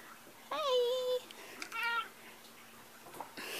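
A mother cat lounging on a sheepskin on a couch gives two high, squeaky meows close by, the second shorter, with quiet room noise between them and no talk over the calls.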